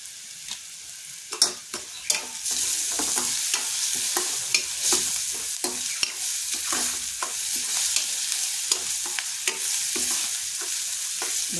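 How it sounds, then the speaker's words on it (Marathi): Chopped onion and tomato frying in a pan for Marathi egg bhurji, a constant close sizzle punctuated by sharp spatula scrapes and taps, with no one talking. "कांदा थोडा भाजत आलेला आहे. त्यात मग एक मोठा चिरलेला टोमॅटो घालायचा"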